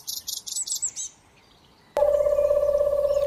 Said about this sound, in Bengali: অনেক পাখির ডাককে একসাথে কিচিরমিচির বলে